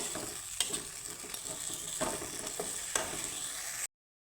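Spice masala fries in a pan for a garlic butter pasta, a close crackling sizzle broken by several sharp scraping clicks of stirring before it cuts off to silence.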